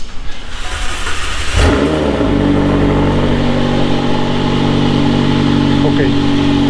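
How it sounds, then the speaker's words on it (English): A McLaren 720S engine cranks and fires up, then settles into a loud, steady idle with a strong low rumble that holds to the end. "Turn engine on."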